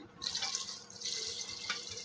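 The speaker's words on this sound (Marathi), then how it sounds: "मी आता याच्यात पाणी घालत आहे बघा" Water poured into soybean and rice khichdi in a pressure cooker, a short close splashing pour lasting about two seconds.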